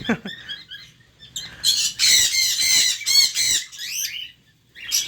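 Pet birds kept indoors through the rainy season give shrill, harmonic squawks in quick bursts, close and loud, with short pauses between the calls.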